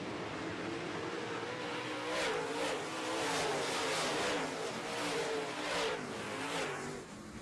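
A pack of modified race cars roars past in a feature race, engines revving loud and continuous with rising and falling surges as the cars pass close by.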